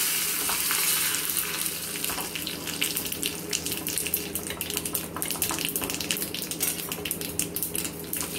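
Mustard seeds, asafoetida, curry leaves and red chillies sizzle and crackle in hot oil, a steady loud frying hiss with scattered popping throughout, no voices.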